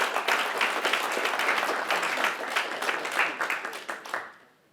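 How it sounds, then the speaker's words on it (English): A crowd at a civil rights talk applauding themselves, brisk close clapping from many hands that stays full for about four seconds before tapering off into quiet. "give a round of applause for yourselves."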